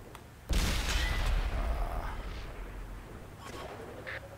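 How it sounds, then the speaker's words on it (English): A tank taking a hit in the World of Tanks game, a sudden heavy boom followed by a long rumbling blast decay and a faint metallic ring. "How the fuck did I get shot?"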